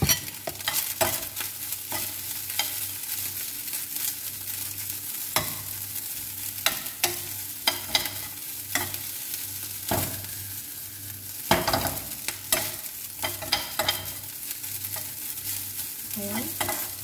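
Fried rice being fried and stirred in a pan after a splash of soy sauce, with continuous sizzling and frequent sharp scrapes and clatters of a spatula against the pan, close and steady throughout.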